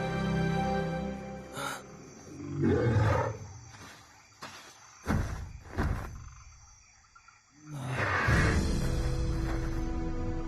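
A lion roars in an animated Indonesian-dubbed cartoon: after a stretch of music, several short growling bursts build into one long, loud, full roar at the end, with no talking.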